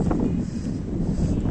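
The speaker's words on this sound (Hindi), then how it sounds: "अभी ठंडी ठंडी हवा चल रही है" Cool wind blowing after heavy rain near a flyover construction site, buffeting the microphone in a steady, noisy rush throughout.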